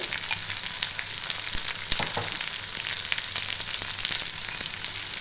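A turmeric and chili spice paste sizzles hard as it is sautéed for khichuri, a dense, close hiss punctuated by a few sharp spoon taps.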